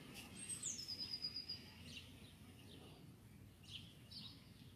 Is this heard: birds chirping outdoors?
yes